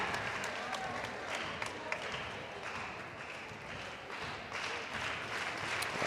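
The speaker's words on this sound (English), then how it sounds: "Now the crowd's starting to get into it a little bit." High school boys basketball crowd at a Sedalia Smith-Cotton versus Republic game claps and cheers in a gym, a moderate, continuous rumble of applause under a commentator's voice.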